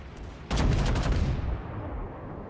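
Naval guns from a battleship in World of Warships fire a loud, dense salvo that booms in suddenly and rolls into a sustained rumble before slowly fading.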